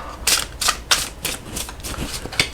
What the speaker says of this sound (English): It overhand shuffles really nicely. There's no sort of grip to the stock, so they slide together